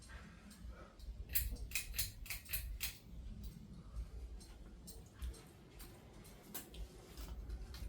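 A Canarm Monet 42-inch ceiling fan running on high speed and wobbling, producing faint rhythmic ticking and creaking over a low, steady hum.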